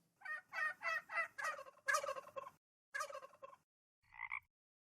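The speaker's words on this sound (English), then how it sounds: "Those turkeys." Turkeys gobble in the video game Salem, several rapid rattling gobble bursts in a row, then a pause and two shorter calls, loud and close with no talking.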